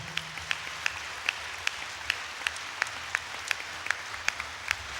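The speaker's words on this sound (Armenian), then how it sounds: "Եվս մեկ անգամ ջերմ ծափարություններ երիտասարդին։" Warm applause at a ceremony honoring a young doctor awarded for a rare life-saving surgery: a steady wash of clapping with sharp, evenly spaced claps standing out in a regular rhythm throughout.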